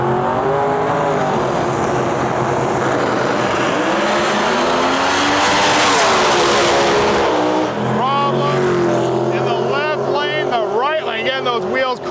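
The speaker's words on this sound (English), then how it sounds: "We got a split bumper Camaro in our lane and a C7 screw-blown Corvette far side of the track" A split-bumper Camaro and a C7 screw-blown Corvette pro mod roar down a drag strip in a loud, sustained blast that swells and then changes pitch late, with an announcer talking over the engines throughout.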